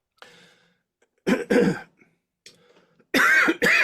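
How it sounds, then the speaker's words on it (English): Several rough coughs and throat-clearing bursts in quick clusters, close and loud, separated by short silences and a faint rasp in between. "those coughs and wheezes"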